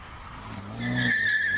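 A BMW E90 race car powers up a hill climb course at a Cape Town speed event, its engine rising into a sustained high-pitched tire squeal and skid, loud and close with no talk.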